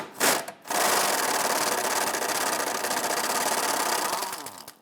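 Swivel socket on an extension loosening a 13mm muffler hanger bolt under a Dodge Charger, a continuous buzzing, rattling rotation after a brief initial burst, close and loud.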